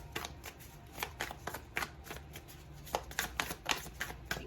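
Tarot cards are shuffled by hand, a quick run of crisp riffling flutters and soft slaps repeating close and fairly quiet, with no talking.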